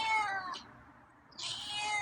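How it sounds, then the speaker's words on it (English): A feral cat meows twice, close and clear, the two calls separated by a short quiet gap, with no one talking over them. "Heard you meow a couple times while I was preparing your dinner."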